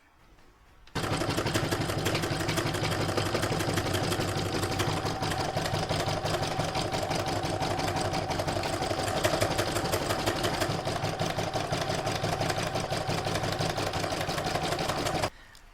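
An embroidery machine stitches the detail and edges of a lined in-the-hoop Santa bag in white thread, a steady rapid mechanical whirr and needle patter that starts abruptly, runs unbroken and close, then stops.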